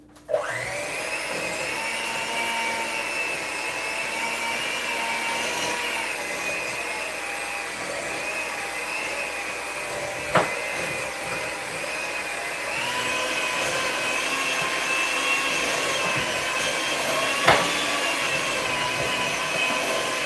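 An electric mixer runs steadily, whirring loud and continuous as it beats homemade frosting with a bit of blue coloring, with two brief knocks partway through and no talking.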